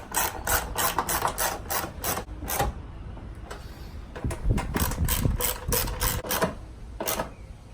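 Ratchet reinstalling a bolt at the anti-lock brake unit of a 2005-2009 Roush Mustang, with close, rapid clicking in two bursts separated by a short pause and some rubbing handling noise.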